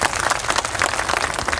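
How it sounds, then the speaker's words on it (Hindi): A women's audience at a political rally claps continuously, a dense, even patter of many hands filling the space at moderate loudness. "इसलिए इनके लिए ताली बजाना चाहिए।"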